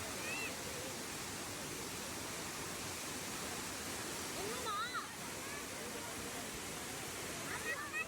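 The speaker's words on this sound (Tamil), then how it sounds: "இங்கேருந்து தான் வந்து இந்த கிளேசியர்லேருந்து உருகி வந்து இந்த தண்ணி வந்துட்டுருக்கு" Gollinger Waterfalls at its glacier-fed meltwater source roars with a steady, loud, broad rush of falling water, unbroken throughout, with brief voices faintly audible over it.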